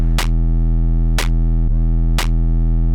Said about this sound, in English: Let's go for a digital clip.